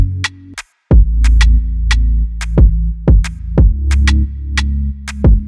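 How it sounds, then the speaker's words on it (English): Programmed clap in an FL Studio rap and R&B beat, sharp snapping hits recurring at a steady rhythm over a deep pulsing kick and bass pattern, loud with no talking. "I just added a clap"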